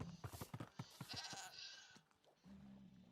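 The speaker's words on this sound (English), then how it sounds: "Here's the goat." A goat from Minecraft bleats in a quick series of short, wavering cries, fairly close and clear, followed by a longer drawn-out bleat near the end.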